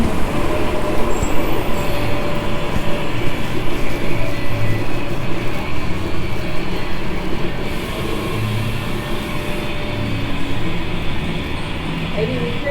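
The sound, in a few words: passenger train riding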